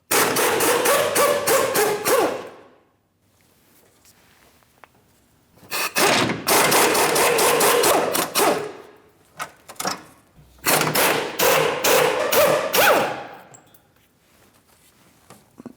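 Hand ratchet loosening 13mm fuel tank mounting bolts on a 2015-2025 Ford Transit-250 3.7L V6: three close, loud bursts of rapid clicking, each a few seconds long, separated by quiet pauses.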